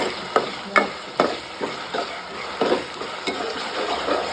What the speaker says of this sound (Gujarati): ડુંગળી શેકાઈ જવાની